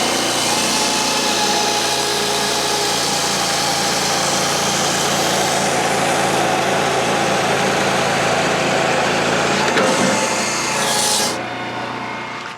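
A loud firewood processor engine drones steadily with scraping, rasping noises from a big oak log over it, then the sound drops off near the end.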